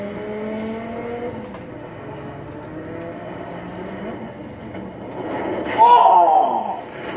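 Dodge Viper engine in the Need for Speed racing game, a steady droning whine with shifting pitch that rises into a louder rev near the end, with voices talking over it.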